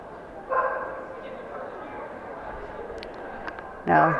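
Dogs at a Flushing Spaniel show during a junior showmanship event, with a brief yelp near the start and a sharper bark at the end over steady hall murmur and background chatter.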